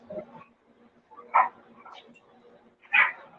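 A dog gives a few short, separate barks, two of them sharp and fairly close, spaced over a few seconds with quiet gaps and faint background sounds in between.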